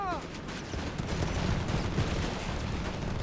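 Dense, continuous fusillade of small-arms and machine-gun fire rattles throughout a Company of Heroes 3 desert battle between armored cars, infantry and Italian troops, a loud, unbroken wall of crackling shots with no pause.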